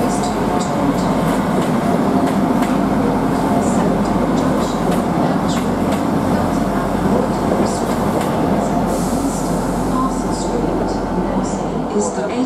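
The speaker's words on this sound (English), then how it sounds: "The train now approaching platform 1 is the 1900 Great Western Railway service to Taunton." A Great Western Railway train to Taunton runs into a platform at a Cardiff station on a summer evening, giving a loud, steady rumble of wheels and rail noise throughout.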